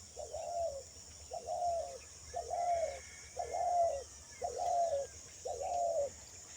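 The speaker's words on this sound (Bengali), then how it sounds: "মাথার উপর একটা ঘুঘু ডাকছে" A dove coos overhead in a rhythmic series of six evenly spaced phrases, clear and moderately near, above open green paddy fields turning yellow beside a pond, with faint background hiss and no talk.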